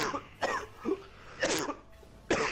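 Several harsh coughs in separate bursts, close and fairly loud, with short pauses between them and no talking.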